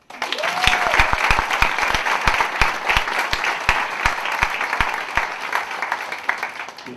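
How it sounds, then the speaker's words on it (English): Audience applause at a university distinguished lecture as a chef is welcomed, a dense burst of clapping with distinct nearby claps standing out, steady for several seconds then thinning slightly. "Let us welcome, with a rousing applause, Chef Angelo."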